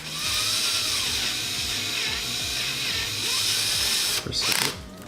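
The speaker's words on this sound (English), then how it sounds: "excuse the loud drilling noises" A loud power drill whirs steadily and continuously while working, with a brief burst of clattering and shifting noise near the end as something is handled.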